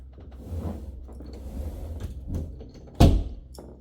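A hall closet door in a house with other interior doors checked nearby, swung open and shut with soft scrapes, then a sharp thunk as it closes, fairly close by.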